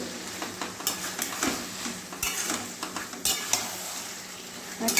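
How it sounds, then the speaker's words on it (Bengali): Taro leaves (kochu shak) stir-fried in a pan, with a steady close sizzle and repeated scraping strokes of a spatula against the metal, unbroken and without talk. "এই যে কচুর শাকটা আমি রান্না করছি"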